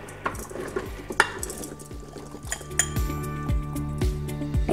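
Hard plastic and metal clinks and knocks as a blade is fitted into a Krups i Prep & Cook food processor, a steady run of close clattering taps with a low mechanical hum underneath.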